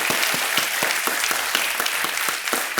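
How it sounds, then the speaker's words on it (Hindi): Studio audience on a televised quiz show applauds steadily to welcome two contestants, a dense, even wash of clapping with individual sharp claps standing out, no voices over it. "तालियों के साथ हम इन दोनों का स्वागत करते हैं।"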